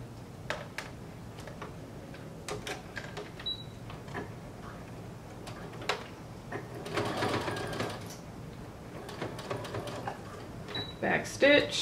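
A sewing machine stitches the collar of a blazer in bursts of fast, steady mechanical ticking, with brief pauses between runs and a louder stretch near the end.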